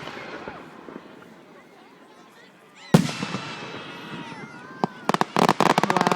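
Fireworks bursting in a night sky, a sharp boom followed by rapid crackling pops and bangs, close and loud, with people talking and exclaiming beneath them.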